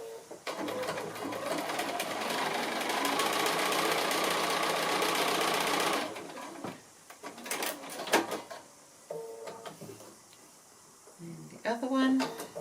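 A sewing machine stitches quilt block corners along a diagonal line, a fast steady whirring run of about six seconds, then stops, followed by clicks, handling noises and brief talking.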